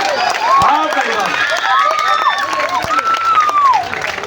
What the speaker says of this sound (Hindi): भाई एक मरतबा जोरदार तालियां